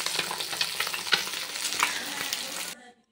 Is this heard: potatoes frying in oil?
yes